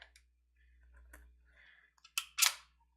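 Hole punch punching paper for a food-themed commonplace book, a few faint clicks followed by two sharp, close punches near the end.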